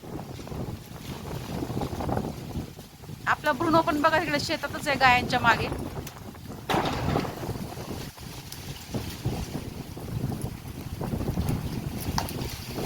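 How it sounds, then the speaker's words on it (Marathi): Strong wind gusts outdoors in a steady, loud broadband roar that rises and falls throughout, with a person talking over it. "बापरे किती असं हवा सुटली ना मित्रांनो"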